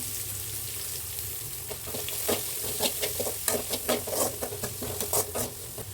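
Chopped large onions dropped into hot oil for a mutton curry crackle and sizzle loudly in the pan, with a steady frying hiss and scraping stirs growing busier toward the end, no voices.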